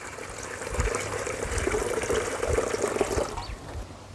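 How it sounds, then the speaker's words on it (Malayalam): Water poured into a cooking pot ahead of boiling cut mutton pieces for a bone marrow dish, a steady splashing, trickling flow heard close by for about four seconds with no talk over it. "നമുക്ക് വെള്ളം ഒഴിച്ച് കൊടുക്കാം മട്ടൻ വേവിക്കാനുള്ളത്."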